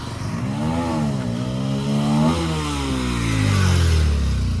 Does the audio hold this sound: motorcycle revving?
yes